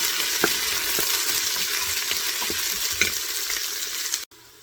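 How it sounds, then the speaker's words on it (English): Onions and green chilies fry quickly in a pot, giving a continuous close sizzle with periodic stirring knocks before an abrupt cutoff; no talking. "and some onions, and fry them up quickly"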